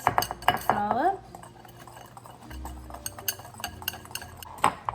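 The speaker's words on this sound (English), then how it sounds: "And now just give it a good mix. Mix it all up." Ground cardamom and other spices for an apple pie spice mixture are stirred in a bowl, making close clinking and scraping with a brief tonal squeal at the start and no voices.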